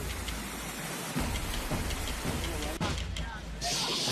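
Heavy torrential rain pours down in Bhopal, a dense, continuous hiss that stays loud throughout with brief shifts in intensity.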